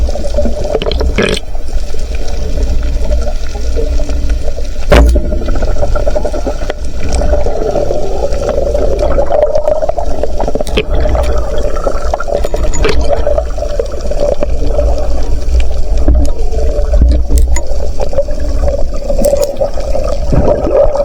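Strong river current rushes in a loud, continuous wash of flowing water close by, steady and churning for the whole stretch with occasional splashes and knocks, no voices.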